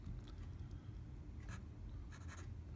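Pen writing on a sheet of paper, faint scratchy strokes in a few short bursts over a quiet low background hum, with no talking.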